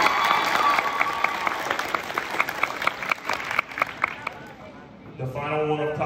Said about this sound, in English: Round of applause for all of these folks as they sit down